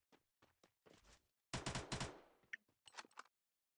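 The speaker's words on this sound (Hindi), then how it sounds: "ए, किसने फायरिंग करा?" Gunfire in the Free Fire video game: several short bursts of automatic shots, then a longer dense volley, followed by a few scattered single shots, fairly loud and heard alone.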